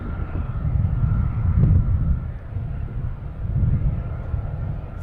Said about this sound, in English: next coming in, we have a JetBlue coming in from LAX.